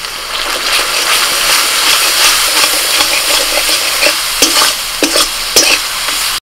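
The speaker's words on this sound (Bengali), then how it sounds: "টক দই দিয়ে ভালো করে মশলাটা কষিয়ে নিয়েছি" A spice paste of coriander, cumin, chilli and turmeric powders with sour yogurt is sautéed in a pan, hissing loudly and steadily up close while a spatula scrapes and stirs, with a few sharper clinks toward the end.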